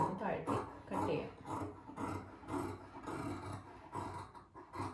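Scissors cutting through churidar fabric near the front armhole. A soft, close rasping of the blades comes in a steady run of strokes, about twice a second, with no talk over it.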